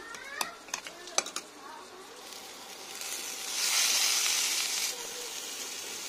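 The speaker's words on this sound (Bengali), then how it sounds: "সবজিগুলো অনেকটাই কিন্তু ভাজা হয়ে গেছে" Vegetables with gedal leaves frying in a pan, opening with a few sharp scrapes and clinks of stirring, then a rising broad sizzle and hiss that swells loudly before easing off.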